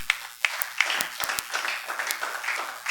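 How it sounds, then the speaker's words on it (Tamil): Church congregation applauding, dense overlapping hand claps at moderate level, steady crowd clapping throughout with a few sharper individual claps standing out. "உங்கள் சபை அப்படி அமைஞ்சதுக்காக நீங்கள் ஒரு நல்ல கரகோஷம் கொடுக்கு"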